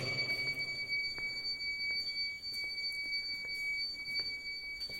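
A steady high-pitched electronic alarm tone rings continuously inside an old Armenian church building, with faint repeated ticks or clicks underneath and a low background hum.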